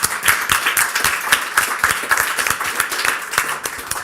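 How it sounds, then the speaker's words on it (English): An audience at a policy event claps, a loud, close patter of many hands that runs steadily without voices. "So a round of applause for everyone here."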